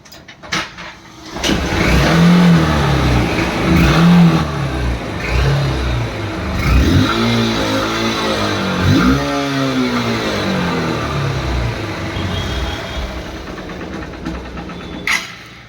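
A Honda Unicorn motorcycle engine cranks and catches, then revs up and down repeatedly, loud and close, settling into a rough idle.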